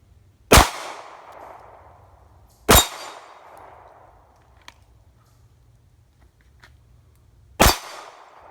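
Three loud, sharp Glock 42 pistol shots spaced a few seconds apart, each with a ringing tail and quiet gaps between, no talking.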